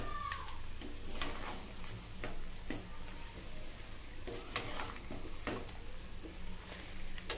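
Dahi mutton curry being stirred in a pan, a steady broadband sizzle throughout with repeated scraping strokes of the spoon at irregular intervals, close and moderately loud, with no talking.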